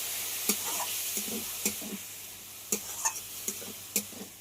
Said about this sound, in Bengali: ডালটা একটু কষিয়ে নিতে হবে।